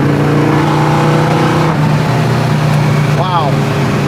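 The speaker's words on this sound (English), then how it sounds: "that exhaust tone is awesome" A 1967 Ford Mustang coupe's exhaust idling with a deep, steady rumble at a classic car dealership, then a brief rev near the end, loud and close beneath people talking.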